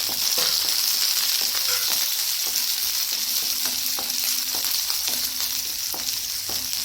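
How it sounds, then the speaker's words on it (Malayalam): Garlic, ginger and green chillies sauté in a hot pan for a tomato curry, giving a steady close sizzle with occasional scraping stir strokes and no talk. "ഇതിലേക്ക് നമുക്ക് ഈ വെളുത്തുള്ളി ഇഞ്ചി പച്ചമുളക് ഒന്ന് വഴറ്റിയെടുക്കാം"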